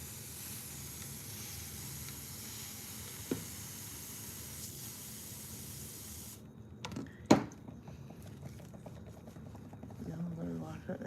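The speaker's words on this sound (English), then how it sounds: "I'm spraying it down with water." Water sprayed onto a washcloth in hissing bursts, faint and close, heard under quiet room noise, with a sharper spritz near the end.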